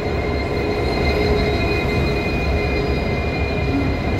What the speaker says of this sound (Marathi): आपली जी पुणे अमरावती स्पेशल ट्रेन आहे ती आली प्लॅटफॉर्म क्रमांक 3 वर आलेली आहे